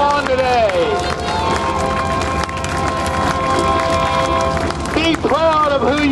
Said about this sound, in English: how about a great big round of applause for the 6th Cavalry Historical Association